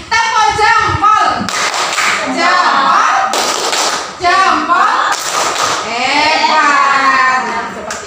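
Children in a class clap rhythmically in short patterned bursts, mixed with chanting and loud young voices close by, the claps landing as sharp repeated slaps.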